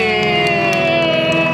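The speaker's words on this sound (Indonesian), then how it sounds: "Ini tepuk tangan untuk Wah. Stefani." A studio audience on a morning talk show cheers and whoops as a guest is welcomed, a short dense burst of crowd noise with strong sustained tones running underneath.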